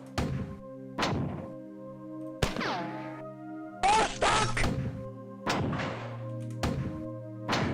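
Grenade impacts on a target in the video game Marathon, a series of heavy thunks and crashing bursts roughly every second, each ringing briefly over a steady game soundtrack.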